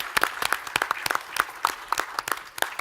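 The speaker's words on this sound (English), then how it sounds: "Round of applause." A small audience at a startup brewery pitch event claps steadily with sharp, sparse handclaps.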